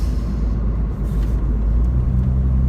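2000 Mercedes SLK230 driving along: a steady low engine and road rumble from inside the car, constant and moderately loud, with no distinct revs.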